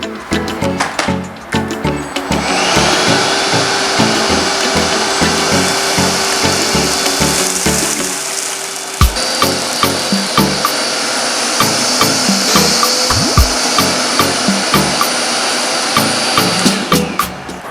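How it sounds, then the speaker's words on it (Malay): A Philips FC6901 SpeedPro Max Aqua 3-in-1 cordless vacuum cleaner runs with a steady, loud whine that falters briefly midway and then resumes, while faint rhythmic knocks and bumps sound beneath it. "sekarang saya tunjukkan cara untuk menggunakan mode vacuum yang pada atas lantai ataupun pada atas kapet"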